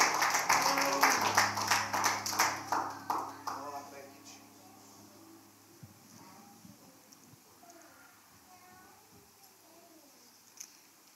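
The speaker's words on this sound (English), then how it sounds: "Give him a hand clap of praise" Church congregation applauding in praise, a burst of rhythmic hand clapping over a sustained organ chord that fades out after a few seconds, followed by quieter room murmur.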